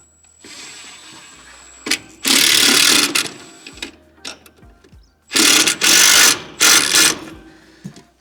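A ratchet tightens a bolt on an Ifor Williams trailer hinge, giving several close, loud bursts of rapid clicking separated by short pauses.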